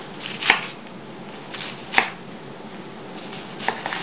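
A knife dices an onion on a cutting board for a red lentil curry, giving a few sharp, isolated knocks against the board spaced well apart, with faint lighter taps near the end and no talking.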